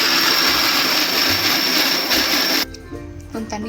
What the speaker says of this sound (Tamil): மிக்ஸி ஜாரில் நல்லா ரொம்ப நைஸாக அரைக்கூடாது, ரொம்ப குறகுறம் அரைக்கூடாது, மீடியமாக அரைச்சிக்கணும்